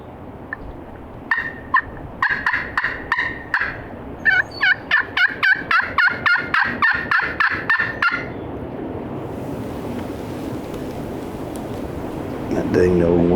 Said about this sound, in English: That bird gobbled across the valley here.